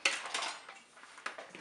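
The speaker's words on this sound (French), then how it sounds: "je vais rajouter le sucre et on va continuer de fouetter" Egg whites being whisked with sugar in a bowl give quick clattering metal-on-bowl scrapes and taps, close and busy, with no voices.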